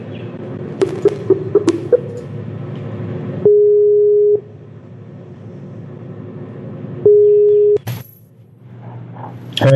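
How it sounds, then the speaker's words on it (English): A telephone call is placed: a quick run of keypad tones, then two long ringback tones separated by a pause, followed by a click as the line connects and faint noise. "Let's call RD and see what he has to say about it"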